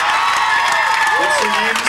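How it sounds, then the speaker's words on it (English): Concert crowd at a live rock show on a yacht at Chelsea Piers, New York, cheering and clapping for two singers, a dense roar of applause with whoops and voices layered throughout. "Yes, round of applause for them."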